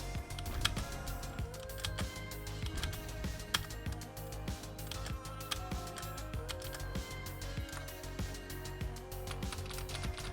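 A wireless keyboard connected to a Nintendo Switch is typed on during Fortnite, with a dense stream of fast, light key clicks running under constant game music and effects.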